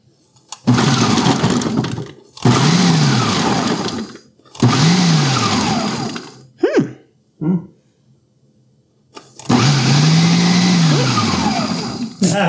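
A Magiccos 14-cup food processor pulses onion in four loud bursts of whirring blade noise separated by short pauses, with two brief clunks in a quieter gap between them.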